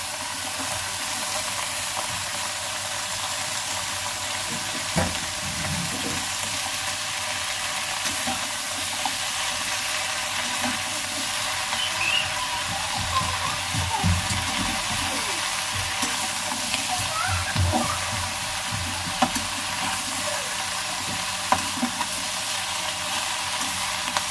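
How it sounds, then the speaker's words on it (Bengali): Pumpkin, potato and Malabar spinach fry in a pan with tomato, a steady broadband sizzle running throughout with scattered stirring knocks and scrapes, moderately loud and close, no voices. "এই সবজিটা ঢেলে দেব। কুমড়ো, আলু আর পুঁই শাক"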